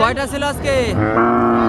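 A thin, bony red cow lets out a long, low moo close by at a cattle market while people talk over it in the background.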